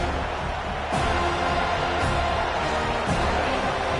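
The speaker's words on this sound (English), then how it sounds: "Here comes this home crowd as the defense tries to get off the field on 3rd down." Home crowd in College Football 25 roars at a football stadium as the defense faces 3rd down, Florida State against Miami: a steady, loud wash of massed voices with faint swells throughout.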